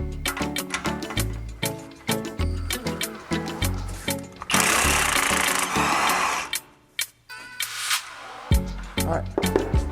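A power tool works loose the brake caliper bolts on a BMW 228i, making rapid rattling, impact-style bursts of buzzing that stop and start, close and loud, with a longer hissing stretch midway.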